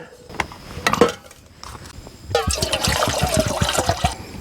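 Water is poured into a medium saucepan while cooking at a truck campsite. A few scattered knocks and clinks lead into a steady, splashing pour that runs for about two seconds.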